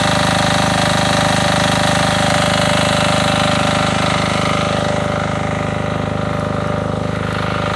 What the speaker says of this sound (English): Generator.